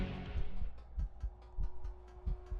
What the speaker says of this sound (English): I just hear my heartbeat